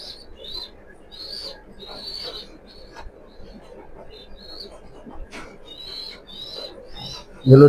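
Pigeons of a fancy breed cooing in a loft, soft repeated coos and chirps throughout at close range, with a brief louder knock or handling noise at the very end.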